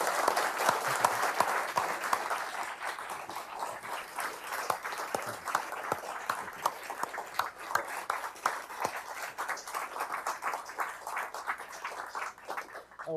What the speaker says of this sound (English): a round of applause for Richard Haas